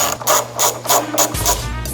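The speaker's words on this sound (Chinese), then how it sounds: "把这些螺丝都拆下来。" Ratchet wrench with an 8 mm socket loosening screws on a McLaren SLR exhaust, a close, loud run of quick rhythmic clicks that pauses briefly and then resumes with a deeper tone.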